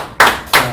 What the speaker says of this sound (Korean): 짝짝짝짝짝짝짝 박수.